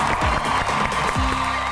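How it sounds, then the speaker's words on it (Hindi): Studio audience at a talk show clapping and cheering to welcome a comedian and actor as a guest, a dense, steady burst of applause that fills the room. "भरपूर तालियों में वेलकम कीजिए"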